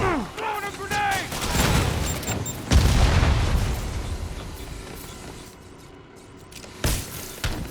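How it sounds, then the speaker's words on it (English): A grenade blows up in Marvel's Spider-Man with a loud low boom near the middle, followed by a rumbling tail and scattered game effects, while voices speak over the action. "Throwing a grenade!"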